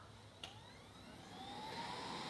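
A Xiaomi Roborock S50 robot vacuum drives back to its dock: a quiet, steady mechanical whir with a rising tone as it moves along, preceded by a small click.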